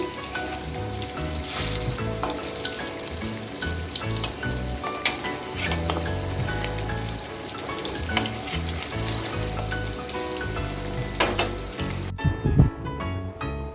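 Fish roe fritters sizzle in hot oil in a kadai after being flipped. The crackling hiss runs continuously, with small pops and utensil scrapes, then it cuts off sharply near the end.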